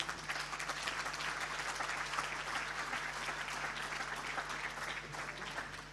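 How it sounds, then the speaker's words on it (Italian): Steady applause fills a hall at a Veneto Paralympic sports gala as the winner Stefano Raimondi receives his award. The clapping is dense, even and fairly distant, with no talk over it. "un grande applauso per Stefano Raimondi"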